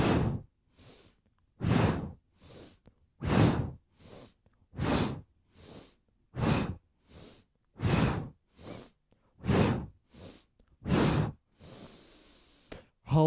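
Forceful breath exhales during a morning vinyasa and kriya yoga practice, about nine strong bursts at a steady rhythm of roughly one every 1.5 seconds, each followed by a softer inhale, close and alone with no talk.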